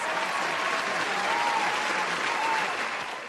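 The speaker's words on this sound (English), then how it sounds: "We're all having fun with the soundboard now. Oh, we got the big applause" Big applause sound effect played from a soundboard at a party, a dense, steady wash of clapping and crowd noise that fades slightly at the end.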